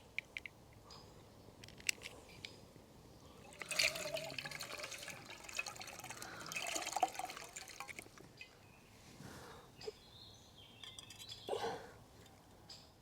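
Water is poured from a Platypus foldable water bottle at a camp cooking spot, a few seconds of trickling and splashing with light clinks, fairly quiet and close.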